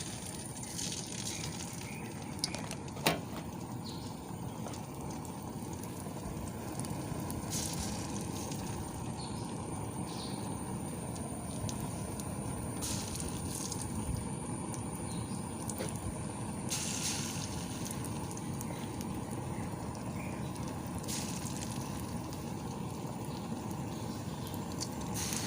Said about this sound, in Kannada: ಈಗ ಮುರುಕ ಅಥವಾ ಸುಟ್ಟೆಯನ್ನು ನಾವು ಎಣ್ಣೆಯಲ್ಲಿ ಬಿಟ್ಟು ಫ್ರೈ ಮಾಡಿಕೊಳ್ಳುವ